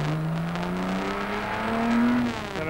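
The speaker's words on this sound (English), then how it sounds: "Accelerating hard up to Dunlop Bridge" A race car in rFactor 2 accelerating hard at Le Mans toward Dunlop Bridge, a steady loud engine drone with a rising pitch through the gears, heard from onboard with no talk.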